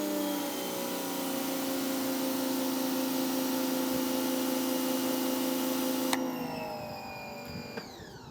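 A Giraffe Grandfalls wall mount pressure washer fitted with a 2.5 40-degree nozzle runs with a loud, steady whining hum and hiss for about six seconds, then a click and the motor tone shifts and winds down, close and without talking.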